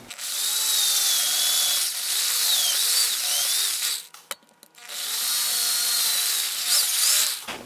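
A power drill whines steadily as it bores into the wood of a 3/4 size guitar, pausing briefly midway before starting again, close and loud.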